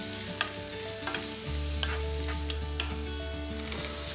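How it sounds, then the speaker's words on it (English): Carrots fry and get stirred in a little melted oil in a pan, a steady sizzle with several sharp spoon scrapes and clicks, the hiss swelling louder partway through; no one speaks. "carrots just need a couple of minutes in the pan."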